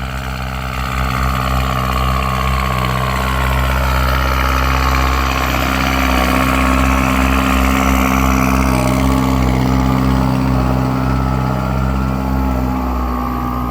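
A Kubota M9540 tractor engine runs hard and steady at close range, a loud sustained diesel drone with deep low harmonics and a continuous mechanical roar throughout, with no talk.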